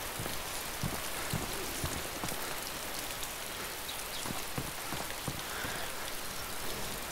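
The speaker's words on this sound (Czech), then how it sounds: "do baráku prší jenom trošičku, takže se tam můžete skovat" Rain falls in the video game DayZ as a steady, dense hiss of drops with scattered louder patters and taps throughout, heard alone with no voices.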